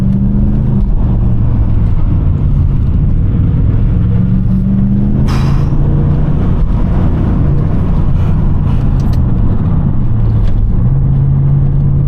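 A 300 hp, 400 Nm V8 car driving through a chain of bends at low speed gives a loud, continuous engine drone that rises and falls with throttle, heard from close inside with road rumble and no talk.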